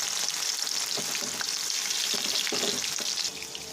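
Onion paste, spices and prawns fry in a pan, a dense continuous sizzle broken by a few soft stirring scrapes, close and fairly loud.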